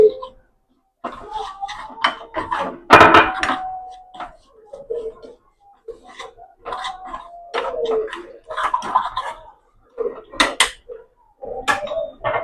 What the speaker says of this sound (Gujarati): હવે આને કરી નાખી બધું મિક્સ